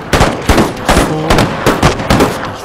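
Musket volleys from Empire Total War crackle in sharp, ragged bursts, roughly half a second apart, loud and close over a steady battlefield rumble.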